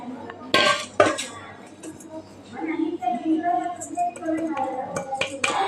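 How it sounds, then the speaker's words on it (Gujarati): Coarse-ground flour is tipped from a mixer jar into a bowl for instant vati dal dhokla, with sharp metallic clinks and scraping taps of a spoon against the dishes at close range. "તો અહીં આપણે જે લોટ તૈયાર કર્યો એ બાઉલમાં લઈ લીધો"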